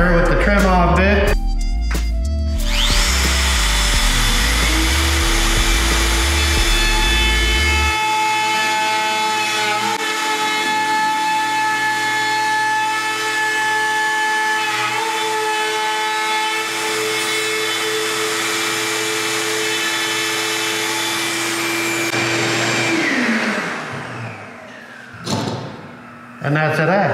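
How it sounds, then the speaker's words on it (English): A handheld router with a trim bit whines at a high, steady pitch for about twenty seconds while rounding plywood cabinet edges, then spins down; brief music comes before it. "Then I take my router with the trim off bit."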